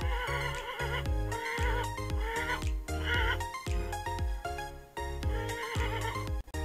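A small horse gives a series of repeated, wavering, foal-like whinnies, close and fairly loud, in quick bursts with short gaps between them.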